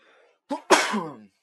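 A single loud sneeze up close, a short sharp intake followed by a forceful burst that trails off.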